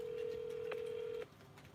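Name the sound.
telephone keypad dialing tones on a mobile phone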